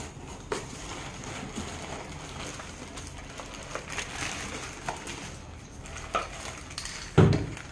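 A 5-litre Pigeon aluminium pressure cooker lid being handled, light metallic knocks and clinks at close range, scattered and quiet, ending with a sharper clatter.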